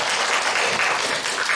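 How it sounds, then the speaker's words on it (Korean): Church congregation clapping together during a Sunday worship service to welcome back a returning member, a brief, full burst of steady applause from a room of people. "우리 박수로 환영하겠습니다"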